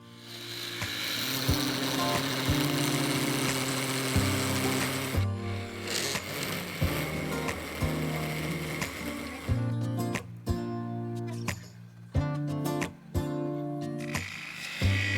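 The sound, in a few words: parting tool cutting into segmented wood and resin bowl on lathe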